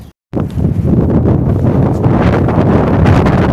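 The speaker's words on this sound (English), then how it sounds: "Sorry guys, it's real windy" Strong wind in Killeen, Texas buffets the microphone in a steady, loud roar of low rumble that continues without a break after a brief silent gap at the start.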